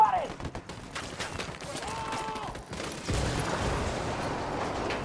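Gunfire bursts in the video game Ghost Recon Wildlands, sharp reports and a sustained rattling fusillade building toward the end, with voices talking over the shooting.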